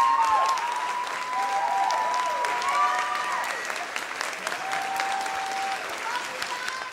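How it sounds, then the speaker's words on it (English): Sustained applause from an awards gala crowd fills the whole stretch, steady and fairly loud before tapering slightly toward the end. "So please give another round of applause to our staff."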